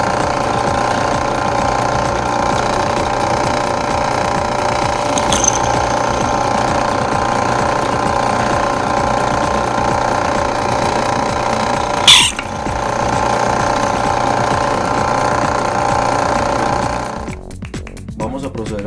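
Drill boring two holes through a square steel plate for a metal shooting target, a steady loud grinding whine running almost unbroken, with a sharp squeal partway through before it winds down at the end.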